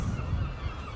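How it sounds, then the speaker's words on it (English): Seagulls calling by the sea at St Ives, a brief, fairly loud burst of raucous cries heard alone over the seaside ambience. "That is the sound of seagulls."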